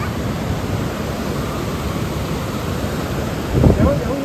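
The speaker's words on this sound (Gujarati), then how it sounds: "જો અહીંયા પાણી એટલું મસ્ત ચાલે છે" A village river runs full at evening, giving a steady rushing roar of flowing water that stays constant throughout, with a brief louder surge near the end.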